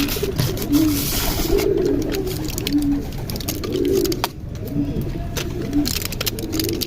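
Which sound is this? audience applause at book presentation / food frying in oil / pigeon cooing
pigeon cooing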